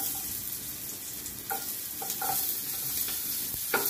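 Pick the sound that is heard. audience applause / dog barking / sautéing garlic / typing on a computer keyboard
sautéing garlic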